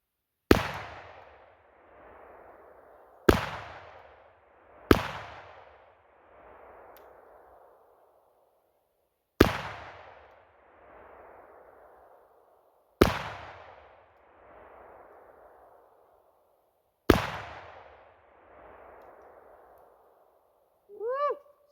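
Six loud, sharp gunshots from a Remington 1858 New Model Army .44 black powder revolver at a shooting range, fired at uneven intervals of a few seconds, each with a long echoing decay.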